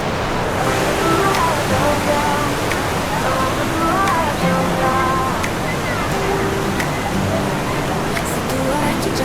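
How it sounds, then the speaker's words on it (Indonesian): Rushing water from a small, fast-flowing stream near Jumog waterfall: a steady, dense wash of noise throughout, with faint voices mixed in. "suara gemericik air mulai terdengar dari sungai kecil yang berarus deras"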